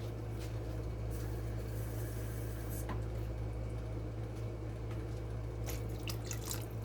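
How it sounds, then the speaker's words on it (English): About a quarter cup of water poured from a cup into a dish on the stove during supper cooking: a steady, close trickling splash over a constant low appliance hum, with no talking. "I'm going to add just a little bit of water to this, about anywhere from a 1/2 cup to a 1/4 cup of water."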